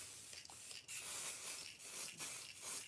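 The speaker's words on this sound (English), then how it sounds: "I'm spraying right over my bucket" Short bursts of hissing from an aerosol spray can, repeated several times with brief pauses between, close and fairly quiet.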